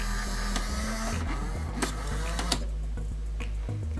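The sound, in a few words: quiet motor of garden railway locomotive running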